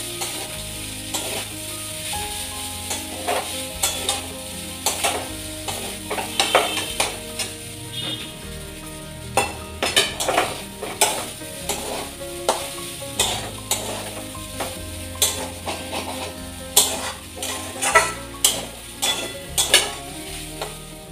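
Egg bhurji (scrambled egg) being stirred in a frying pan, the spoon scraping and clattering rhythmically against the pan over a steady sizzle, close and fairly loud with no talking.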